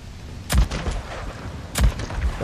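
Two sharp, booming gunshots from the Days Gone video game, about a second apart, each followed by a short rolling echo against faint background ambience.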